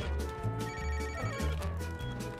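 A cell phone rings in the video game Bellum Era 2, with a repeated electronic ringtone pattern pulsing steadily and loud throughout, alone without talk.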